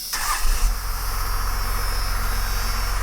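A 1996 Dodge Ram diesel pickup with near-factory exhaust starts up and settles into a loud, steady, rhythmic idle, its low clattering engine note pulsing evenly and close by.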